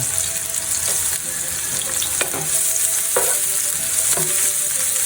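Ginger and garlic sauté in a hot pan for squid adobo, giving a steady loud sizzle with a spoon clacking and scraping at intervals, no voices.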